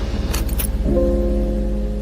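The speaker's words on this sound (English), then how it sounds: "Keys jingling, deep exhale." A brief jingle of keys over a low engine hum, followed by a steady tonal drone as the vehicle idles.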